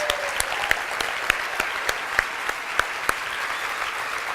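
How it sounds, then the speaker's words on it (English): Audience applause for the outstanding vendors at a 25th anniversary charity breakfast, a steady wash of clapping from a room of guests with a few sharper individual claps standing out, alone without talk. "Please join me in a round of applause for the outstanding vendors."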